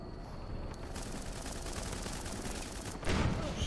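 Dense, continuous gunfire in the video game Running With Rifles, a steady rattle of shots with a louder burst near the end.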